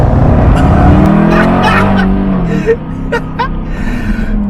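A supercharged V8 Jaguar F-Type R roars hard and close, revving up with a rising, throaty growl and a brief tire chirp.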